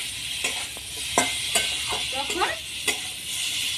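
Spice paste being fried and stirred in oil for a Bengali mango and shol fish curry, a steady sizzle with a few sharp spoon scrapes against the pan, while a voice speaks briefly over it.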